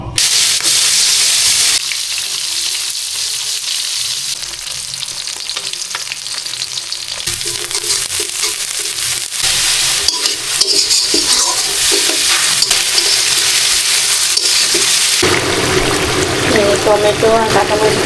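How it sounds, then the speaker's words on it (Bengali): Fish coated in sun-dried chilli paste frying in a pan, a loud, dense sizzle that rises and shifts throughout, with stirring and spatters on top and some voice nearby. "এই যে আমার মাছ একদম কমপ্লিট, রোদ্র মরিচ মাখা, ওটাকে ভেজে নিব।"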